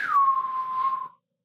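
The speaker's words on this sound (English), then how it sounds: "That was the best whistle I've probably ever" A person gives one sustained whistle that starts slightly higher, then holds a steady pitch for about a second before cutting off. It is close and clear, with no talk.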